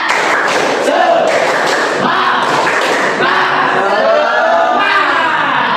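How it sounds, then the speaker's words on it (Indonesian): A classroom of students performs a rhythmic spirit clap, bursts of loud group clapping in a patterned beat mixed with shouted voices, close and energetic. "Coba tepuk semangat lagi lah sekali"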